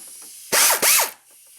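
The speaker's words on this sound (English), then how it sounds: "should be able to get in here with our little ratchet and get these guys out of here" A small ratchet works on car engine mount bolts, giving two quick, loud clicking bursts close by, separated by a short pause.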